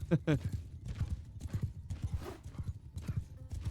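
Horses in Mount & Blade 2 Bannerlord move with a quick, uneven clip-clop of hooves, and a whinny sounds near the start while muffled voices run underneath.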